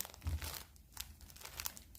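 Paper napkins crinkle up close in a brief burst of crisp rustling and crackling, several quick handling noises in a row, with no voice.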